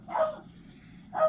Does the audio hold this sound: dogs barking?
yes